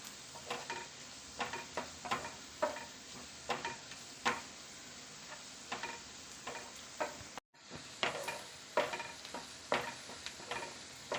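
Sliced onions and curry leaves sauté in a pan for chicken dosa filling, with a soft sizzle under regular scraping stirs of a spoon against the pan, close and fairly quiet, with a brief gap.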